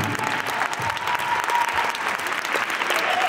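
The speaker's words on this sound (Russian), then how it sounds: "И зал взрывается аплодисментами." A hall audience applauds at a professional Latin dance competition semifinal, steady, full clapping from a large crowd that carries through the whole moment at a moderate distance.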